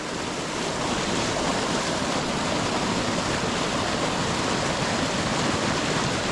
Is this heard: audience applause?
no